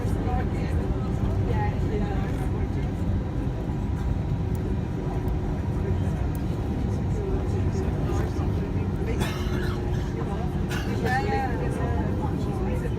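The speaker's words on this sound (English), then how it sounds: "Alright, so it's time for takeoff." Cabin of a Thomas Cook Airlines Airbus A321-231 taking off from London Stansted, a steady loud engine roar and rumble filling the whole stretch, with a voice speaking over it.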